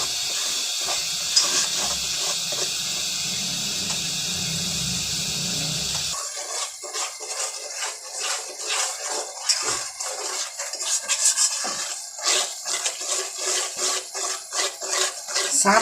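Semolina roasting slowly in a pan over a low flame, giving a steady close sizzling hiss with soft scraping and rasping of stirring that grows more uneven and crackly partway through; no voices.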